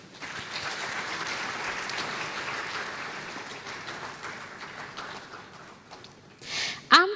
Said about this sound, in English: A round of applause for Sandra Adehene.